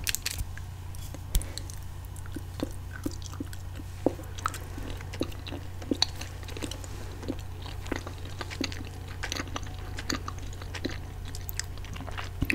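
Close, steady chewing of watermelon-flavored Twizzlers Pull and Peel licorice candy, soft rhythmic wet bites and squishes repeating over a constant low hum, with no talking.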